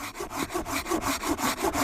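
Hand saw cutting through the twisted butt end of an aspen bough, with quick, even back-and-forth strokes rasping steadily through the wood, close and alone.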